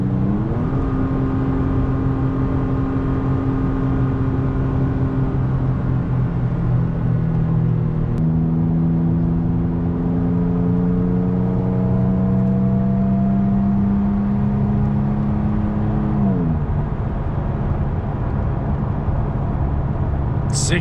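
Engine of a 2017 third-generation Toyota Tacoma TRD Off-Road fitted with sound deadening, heard from the cabin revving in second gear at highway speed, a steady droning hum with rising and falling pitch as it accelerates.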